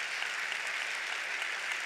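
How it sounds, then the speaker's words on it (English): A church congregation claps hands during a sermon, a soft, even patter of many hands sounding somewhat distant and faint throughout the short stretch. "can we clap our hands to that?"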